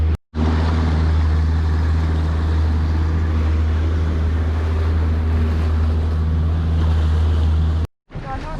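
A fishing boat motors through the sea off a remote far-north island, its loud, steady engine roar and the rushing wash of water and wind running almost nonstop, cut off briefly near the start and near the end.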